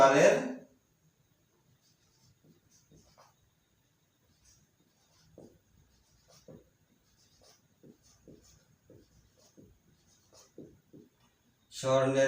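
Chalk or marker writing out a math calculation on a board in a classroom lesson, heard as faint, irregular scratchy strokes and taps, with a person speaking briefly at the start and again at the end.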